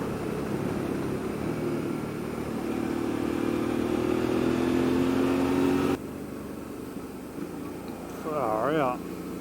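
A Suzuki V-Strom 650 or Triumph Tiger 800 motorcycle accelerating hard enough to lift its front wheel, engine droning and climbing in pitch under wind roar, then dropping off, with a voice speaking briefly near the end.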